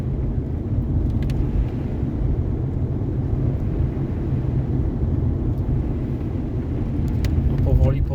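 A car rolls slowly along a rough forest road, a steady low engine rumble with tyre crunch close by, while someone talks over it.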